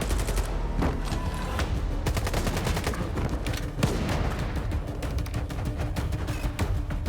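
Dense bursts of gunfire and a grenade blast in the shooter game S.T.A.L.K.E.R. 2, loud rapid volleys that continue throughout without any speech.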